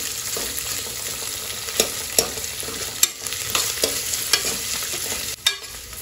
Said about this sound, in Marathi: तर आता कांदा जो आहे ना चांगला तेलामध्ये परतून घेणार आहे.